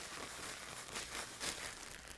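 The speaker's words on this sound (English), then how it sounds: "Seal the bag and shake it until it's evenly coated." Crinkly plastic rustles and crunches steadily as a bag of breadcrumbs and chicken pieces is shaken, a continuous close-up crackling with a few louder bursts.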